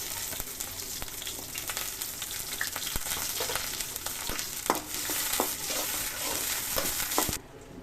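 Chopped onions fry in hot mustard oil for a bitter gourd dal, making a loud, continuous crackling sizzle with stirring clicks throughout, close by, before it cuts off near the end.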